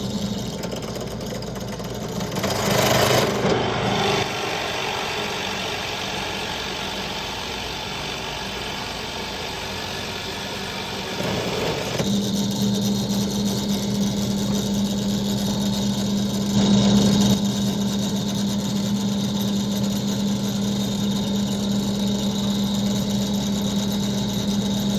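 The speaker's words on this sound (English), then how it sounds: "then we'll be able to bring it back over on this router" A wood router runs in a workshop while cutting out a cutting board, giving a steady, close motor drone that drops in pitch partway through and settles into an even hum, with no voices.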